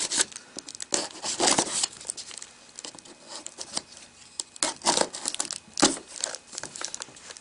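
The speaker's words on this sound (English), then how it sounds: "Let me open this up here and see what's in the box." A cardboard box holding a Cideko Air Keyboard is cut open with a cutter, giving irregular bursts of scraping, crinkling and tearing close by, with short quiet gaps between strokes.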